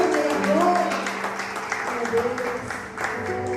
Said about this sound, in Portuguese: Você pode aplaudir ao Senhor nessa noite, amém?